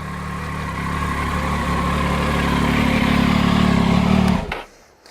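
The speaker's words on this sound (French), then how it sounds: "on débranche tout de suite pour pouvoir justement laisser la moto chauffer" A motorcycle engine idles steadily and loudly after being jump-started with a portable booster, holding a constant low throb for several seconds before cutting off abruptly near the end.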